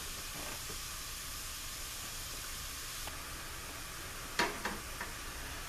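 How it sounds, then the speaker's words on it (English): Spinach cooking down in a pan as its juice steams and evaporates, giving a steady soft hiss and sizzle throughout, with a few brief louder clinks or scrapes near the end. "we're going to cook all of that juice out and allow it to steam out, basically"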